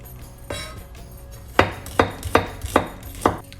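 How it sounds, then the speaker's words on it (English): Shallots being finely chopped with a knife on a board while preparing a Kerala black chana curry: one light tap, then five sharp, evenly spaced cuts, close and clear with no talking. "Let's chop our shallots as well, finely."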